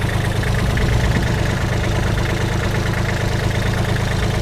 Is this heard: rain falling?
no